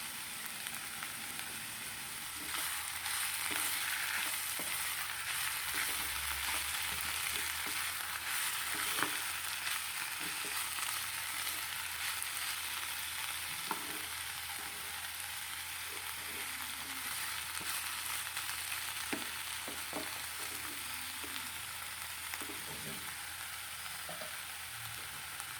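Oroxylum indicum flowers fry with salt in a covered pan without water, giving a steady, dense sizzling hiss that runs unbroken throughout, with faint clicks and pops scattered underneath.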